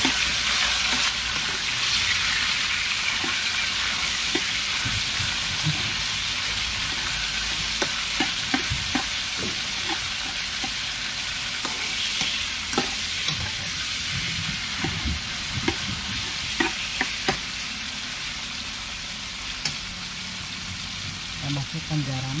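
Chicken meat frying and being stirred in a pan for a breakfast of potatoes, chicken and cheese: a steady sizzle runs throughout with frequent scraping stirs and clacks of a utensil, close and moderately loud.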